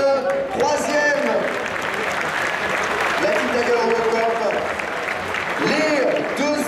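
A crowd at a Super Street Fighter II team tournament final applauds the top finishers, steady sustained clapping throughout while an announcer talks over it.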